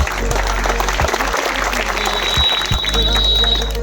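An audience applauds a gurus' presence at a celebration event in a village with a Saraswati temple, the clapping loud and dense over a low hum, with a steady high tone running through the second half.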